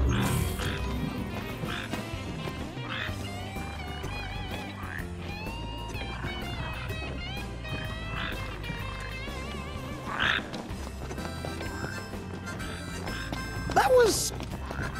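Frogs croak in Final Fantasy XV, low guttural calls mixed among game music, ambient tones and a voice speaking, with a louder burst near the end.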